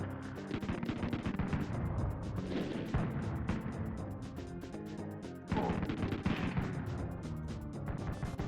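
Rapid gunshots from the SNES video game Blackthorne crack in dense, repeated bursts over a busy, loud game soundtrack, with no voices.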